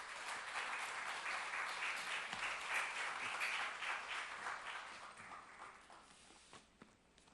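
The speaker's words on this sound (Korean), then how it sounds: "우리 목사님 나오실 때 사랑과 감사의 박수로 뜨겁게 맞이하겠습니다" Churchgoers give a warm, steady round of applause to welcome a pastor to the stage. The clapping is fairly soft and distant and slowly thins toward the end.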